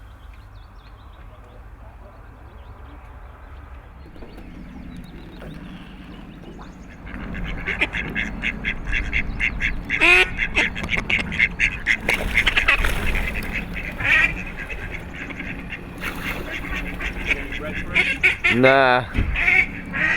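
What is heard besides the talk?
ducks quacking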